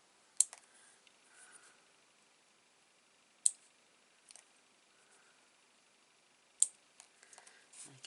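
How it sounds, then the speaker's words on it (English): Small craft scissors snip the stem ends off paper leaves, giving a few sharp, isolated clicks spaced a few seconds apart, close and quiet, with faint rustling of paper between cuts. "just going to snip all the bottoms of the leaves"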